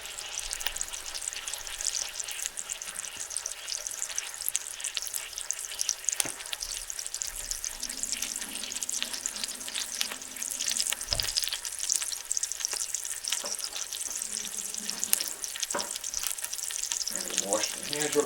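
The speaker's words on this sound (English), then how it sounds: "So what we want to do is we're going to brown up the meat." Ground beef browns in a pot, giving a steady crackling sizzle with occasional stirring knocks and scrapes, moderately close and continuous.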